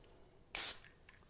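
One short, close hissing burst of homemade contact cleaner from a spray bottle, used on a 1947 Westinghouse H-161 tube radio, followed by faint trailing puffs.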